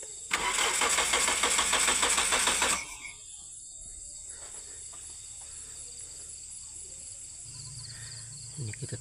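A car engine is started by direct wiring during an engine fault check, cranking loudly for about two and a half seconds before dropping to a quieter idle-like hum with faint background sounds; a voice speaks briefly.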